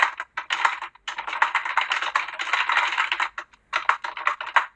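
Fast typing on a computer keyboard while entering code, with dense bursts of key clicks broken by short pauses, close and clear with no talking.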